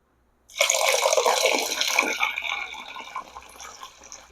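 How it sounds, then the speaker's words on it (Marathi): Water pours steadily from a vessel onto fresh butter lumps in churned curd, a close, loud gushing splash that starts abruptly and slowly thins out over a few seconds. "आता यामध्ये मी पाणी घालणार आहे"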